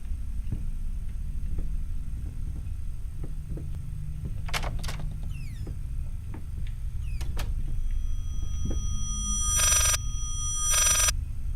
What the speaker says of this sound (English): That's a phone.